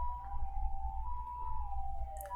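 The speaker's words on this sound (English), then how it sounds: "Oh god, siren. Siren alert!" A siren wails steadily with a slowly drifting pitch, holding for the full couple of seconds, moderately loud over a low rumbling background.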